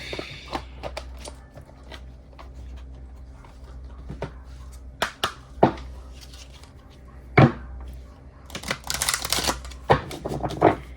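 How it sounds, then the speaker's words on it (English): An oracle card deck is shuffled and a card is drawn: light papery riffles and taps, then a denser flurry of shuffling near the end, close and fairly quiet with no talking. "let me get you a card of oracle advice"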